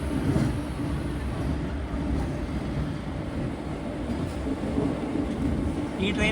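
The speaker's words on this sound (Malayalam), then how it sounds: "രാമേശ്വരം തിരുവനന്തപുരം അമൃത എക്സ്പ്രസ്." Amrit Bharat Express sleeper train running over the Vaigai River bridge, a steady loud rumble of wheels and carriages throughout with no pause.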